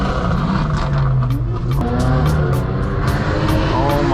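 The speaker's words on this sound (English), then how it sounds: "Oh, that AMG sounds nice." Mercedes-AMG car exhaust, a deep continuous engine roar heard close from a moving car on the road, with engine notes rising and falling and voices talking over it.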